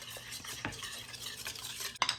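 Sauce made with banana pepper juice being stirred, a few close clinking scrapes of utensil against the bowl and faint kitchen rustle, with a sharp clack near the end; no talking.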